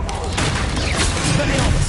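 In Hogwarts Legacy combat, a Confringo fire spell goes off as a dense, loud volley of booming, crackling blasts that runs continuously under a spoken voice.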